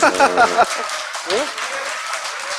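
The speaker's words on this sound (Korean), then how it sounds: "누가 박수 치래?" A short burst of audience clapping in a Korean talk-show studio, rising quickly and thinning out over a couple of seconds, mixed with a man's speech and laughter at the start.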